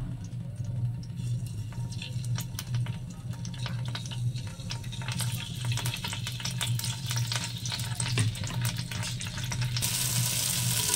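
Soya chaap pieces frying in hot oil, a close, busy sizzle with crackling pops over a low steady hum, growing louder and brighter toward the end.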